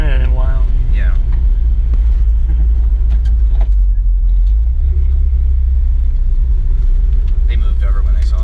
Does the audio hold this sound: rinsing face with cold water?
no